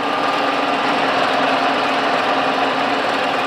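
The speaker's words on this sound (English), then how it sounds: "It's a 3 horsepower General Electric motor." A Cincinnati Bickford Super Service heavy-duty radial drill runs on a 3 horsepower General Electric motor at 220 volts, giving a loud, steady mechanical roar with a constant whirring drone and no talk over it.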